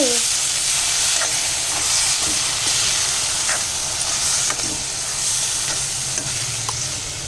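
Soya chunk nuggets fry in a pan with a steady, dense hiss and sizzle, broken by occasional faint pops and light stirring noises, close and continuous with no talking.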